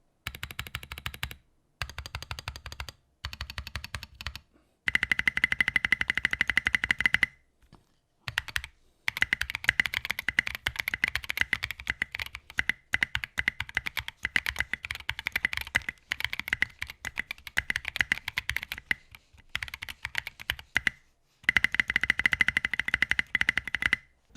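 Bursts of fast mechanical keyboard typing on a Bakeneko 60 fitted with Gazzew Boba U4T tactile switches, dense clacky keystrokes in runs separated by short pauses, close and clear with no talking.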